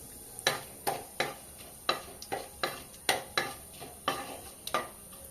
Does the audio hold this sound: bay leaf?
yes